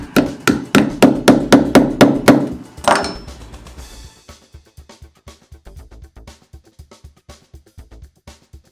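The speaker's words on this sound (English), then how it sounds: "Today, I'm going to use a hammer. So we're going to tap those down between the ears." A hammer strikes metal repeatedly in a quick, even rhythm, loud blows at first, then a long run of lighter, rapid taps folding down the tabs of a steel band clamp.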